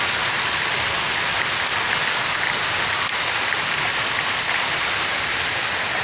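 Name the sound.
spring hail storm in Colorado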